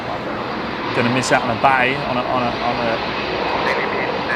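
A Singapore Airlines Boeing 777 jet moves at Melbourne Airport, its engines a steady roar and whine heard from a distance while someone talks over it.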